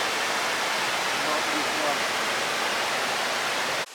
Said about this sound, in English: Next to the largest waterfall in Kazakhstan, its height reaches up to 168 meters, and it consists of 4 cascades.